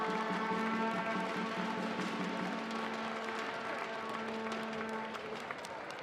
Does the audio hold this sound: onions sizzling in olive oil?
no